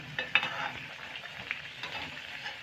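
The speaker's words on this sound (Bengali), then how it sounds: "এই দেখুন দুটো সাইডে কিন্তু লাল লাল করে ভেজে নিয়েছি" Boiled litti frying in a pan sizzles softly and steadily at close range, with a few light clicks and scrapes from stirring or turning.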